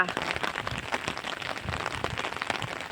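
Rain falls steadily outdoors around a pond in rural Thailand, a dense patter of drops striking surfaces with irregular louder taps over a constant hiss.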